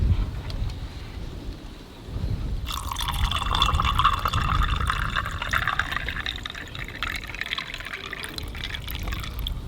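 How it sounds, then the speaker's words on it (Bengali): Water poured from above into a glass of lemon drink with salt, black salt, cumin and ice cubes: a steady, close splashing fill that starts abruptly and runs continuously, with no voices. "এবার জল দিয়ে দেবো।"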